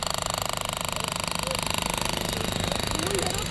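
A jackhammer pounds continuously during road repair in Kaliningrad, a loud rapid even rattle with street noise underneath and faint traffic throughout.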